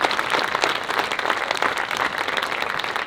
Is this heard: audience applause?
yes